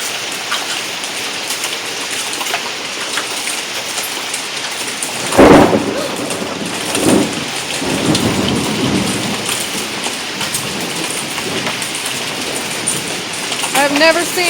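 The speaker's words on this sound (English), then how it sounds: "I've never seen a hailstorm like this before." A Colorado hailstorm pounds steadily on surfaces as a dense, loud hiss throughout, broken by a sharp crack of thunder midway and fainter rumbles after, with no break in the downpour.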